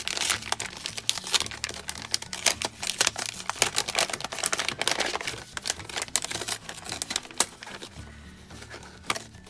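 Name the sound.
opening a paper mail package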